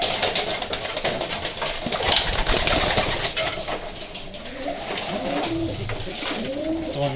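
Racing pigeons coo softly in repeated low, rolling calls against a busy background hiss, the cooing growing clearer toward the end.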